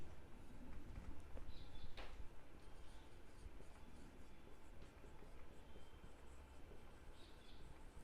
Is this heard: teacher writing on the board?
yes